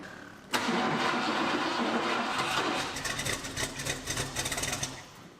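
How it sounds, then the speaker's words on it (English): A 1968 Ford Ranchero with a single custom exhaust cranks and catches abruptly, then settles into a loud, rough, uneven idle close to the microphone. "We're gonna fire this thing up and see how my sweet single custom exhaust sounds."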